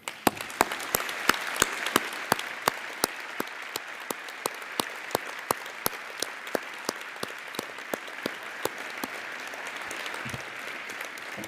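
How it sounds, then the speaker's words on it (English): A large audience applauds together at an International University of Monaco event, honoring a man and his wife: steady, dense clapping with sharper individual claps standing out, sustained for around eleven seconds. "I would like us to applaud him all together, please"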